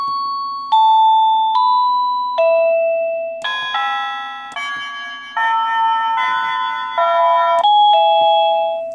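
A wireless plug-in doorbell receiver chime plays a run of short electronic melodies, bright tonal dings stepping through different tunes. The chimes are loud and clear, with no talking.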